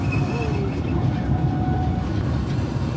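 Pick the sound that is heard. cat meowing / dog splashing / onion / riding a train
riding a train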